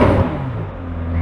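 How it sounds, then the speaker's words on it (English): A Ferrari F430 with an FI exhaust, valves open, rumbles at close range in a brief, deep burst of engine note that sags slightly in pitch before swelling again. "this is a Ferrari F430 with an FI exhaust with the valves open."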